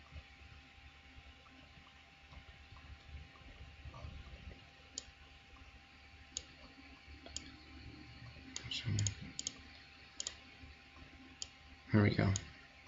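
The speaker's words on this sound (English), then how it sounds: "I'm just going to click this one." Computer mouse clicking: a few sparse, sharp clicks spaced irregularly, with a brief louder cluster near the end, over a faint room background.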